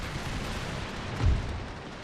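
Musket volley from enlisted soldiers in an Empire: Total War battle, with a steady rumble of distant fire and one heavier, low boom near the middle, fairly quiet and without voices.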